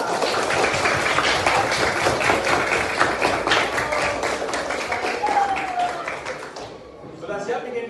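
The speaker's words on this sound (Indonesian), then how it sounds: "Tepuk tangan untuk kalian." A school class claps hands together in a lively burst that lasts several seconds, then tapers off as the clapping fades out near the end.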